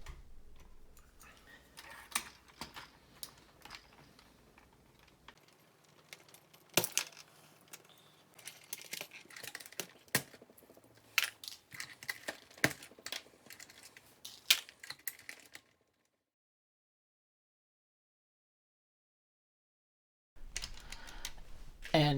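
Keys being pried off a dirty Commodore VIC-20 keyboard, giving a run of sharp plastic clicks and snaps with irregular rhythm, close and fairly loud, then a few seconds of silence before more clicking resumes.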